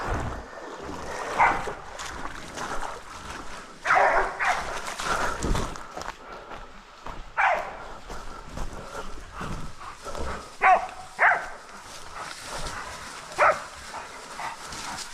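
Hunting dogs bay at a boar in scattered barking bursts with a few longer yelps, some distance off in hills, over a rustling outdoor background with brief movement noises.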